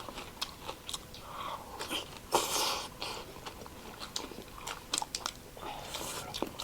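Crispy fried chicken is bitten and chewed close to the mic at a family meal, giving repeated sharp crunches and crackles in an uneven rhythm with no talk over them.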